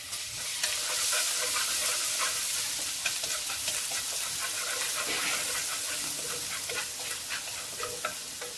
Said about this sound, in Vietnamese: Mình cũng cho một ít tỏi băm vô để mà mình phi thơm luôn.